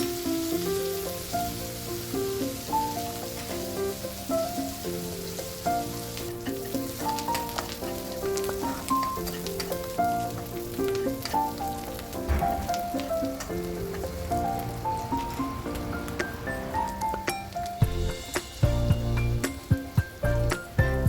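Bottle gourd pieces fry in a pan with a soft, steady crackling sizzle that continues for about twenty seconds, partly masked by tuneful background music.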